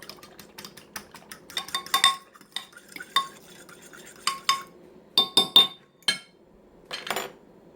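A mixture is stirred in a skillet, with crisp, irregular clinks and scrapes of a utensil against the pan, some in quick clusters, close and fairly loud over a quiet background.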